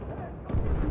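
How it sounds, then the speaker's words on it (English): Gunfire erupts behind the player in a battlefield shooter game, a dense burst of heavy shots and booms swelling halfway through over a steady rumble of battle noise, with voices in the mix. "Gunfire behind me."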